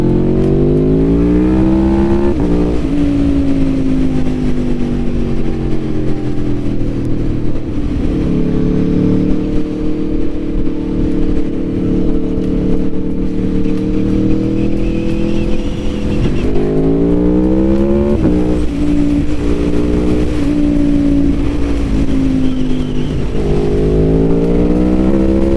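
The V4 engine of a 2021 Aprilia Tuono V4 Factory motorcycle revs loudly and continuously, rising and falling in repeated sweeps of throttle, close and with no voices over it.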